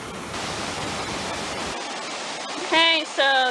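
The Toxaway River rushing beneath a bridge on the Foothills Trail, a broad steady roar of flowing water that cuts out abruptly midway, followed by short electronic beeps.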